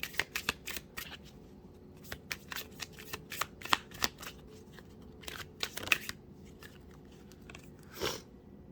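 Tarot cards are shuffled and drawn close up, a quiet run of crisp riffling flicks and soft slaps in an irregular rhythm with brief pauses.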